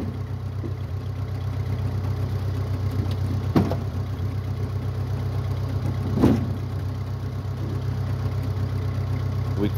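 A small Ford 8N tractor engine runs at a steady low idle-like drone while hauling heavy mushroom logs, continuous and fairly loud, with two brief knocks or clunks breaking through partway.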